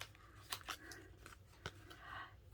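Cheap dollar-store scissors snip through adhesive-backed strips, several close, quiet crunching cuts spaced irregularly in a hushed room.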